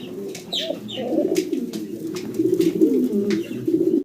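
A male pigeon coos steadily in a cage at a pigeon farm, its low, rolling calls continuing close and fairly loud for about four seconds, with faint bird chirps above.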